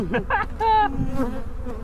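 Bees buzzing around the entrance of their hive outdoors, a steady close insect drone with shifting pitch as individual bees fly past.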